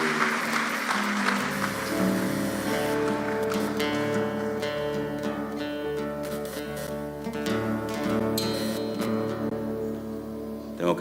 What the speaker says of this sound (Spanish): Dale un fuerte aplauso a Él en esta mañana.